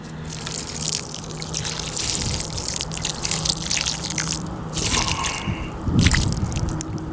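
Water poured from a coffee container onto a potato planted in soil gives a continuous close splashing and gushing with wet squishy patches, strongest near the end, and no talk.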